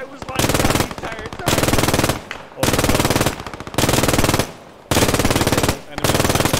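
A machine gun in the World War II shooter Squad 44 fires three long, loud, rapid bursts separated by brief pauses, each a dense close-range rattle of shots.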